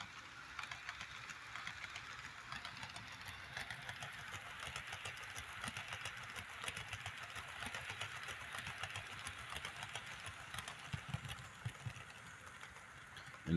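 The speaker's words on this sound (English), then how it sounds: "I'll give you guys a shot of the train going through it." A small HO scale model train runs through a bridge with a faint, steady mechanical whir and light rattling, quiet and continuous with no talking.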